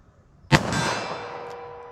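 A single sharp, loud gunshot from a Taurus revolver fitted with a laser, fired at a target outdoors at close range, ringing out with a metallic decaying tail.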